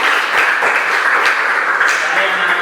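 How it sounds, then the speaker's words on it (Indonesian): Crowd applause at a religious lesson on patience: a steady wash of many hands clapping at moderate distance, continuous for a few seconds with a faint voice mixed in. "Tepuk tangan untuk kita semua."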